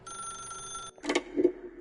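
A telephone rings in The Stanley Parable, a steady electronic trill that stops abruptly and is followed by a couple of clicks and a brief handset clatter, fairly quiet and close.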